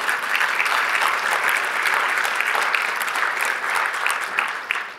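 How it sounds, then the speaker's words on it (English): Applause from a conference audience at a bioscience expo general session, steady clapping from many hands at moderate distance, sustained evenly for several seconds with no talk over it. "You can clap for that."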